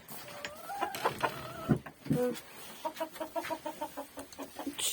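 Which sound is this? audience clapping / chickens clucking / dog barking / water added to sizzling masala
chickens clucking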